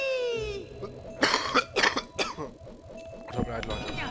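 A person coughs a few times in a short burst, close up, over the bright chiming music and sound effects of the platform video game Rayman 3: Hoodlum Havoc.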